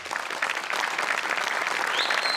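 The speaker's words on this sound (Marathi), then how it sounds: "या सगळ्यांसाठी एकदा जोरदार टाळ्या व्हायलाच पाहिजेत." An audience at a Marathi comedy skit show breaks into dense, loud, continuous clapping that fills the whole moment.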